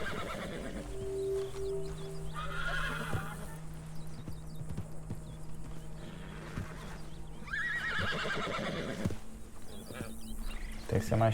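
Agitated horses in Red Dead Redemption 2 whinny and neigh repeatedly, with hooves clip-clopping and a steady game ambience beneath, while a person talks over parts of it.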